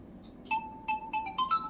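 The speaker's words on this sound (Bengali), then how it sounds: "দেখতে পাচ্ছেন, রিংটোন বাজছে।" A mobile phone plays its ringtone at low volume during a sound-system check on a phone being tested for an audio IC fault, a short melodic run of bright electronic tones, rising and separated by brief gaps.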